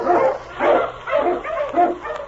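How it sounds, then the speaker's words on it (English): An Eskimo lead dog barks and yips in quick repeated bursts, close and loud, with a whining edge between the barks. "King, the swiftest, strongest of Eskimo lead dogs, blazes the trail through storm and snow for Sergeant Preston"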